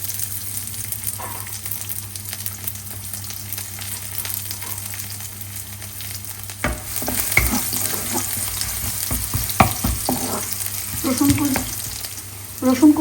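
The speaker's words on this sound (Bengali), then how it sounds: "তেলটা একটু গরম হওয়ার পরে প্রথমে দিয়ে দিচ্ছি রসুন কুচি" Chopped garlic sizzling and frying in hot oil for a leafy greens dish with prawns, a steady crackling hiss with stirring scrapes that grows busier and louder in the second half, no talking.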